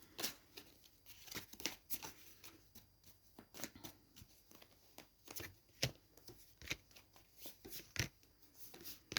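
Rapid crisp riffling of tarot cards being shuffled, repeated in quick bursts with short pauses between, close and fairly quiet.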